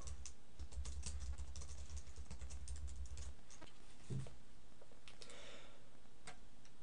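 Close, light clicking from a computer keyboard as details of a half-ounce bullion piece are entered into a precious metals tracker, irregular keystrokes in short bursts with a low hum underneath and no speech.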